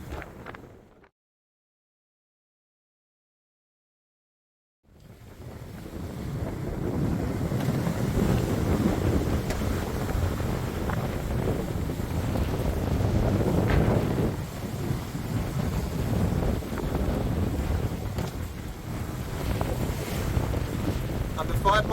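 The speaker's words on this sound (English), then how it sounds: "it's quite windy on deck." Strong wind of about 15 knots buffets the microphone on a sailboat deck while sailing off Saba, a steady, loud roaring rush with water noise, starting after a few seconds of silence and continuing unbroken.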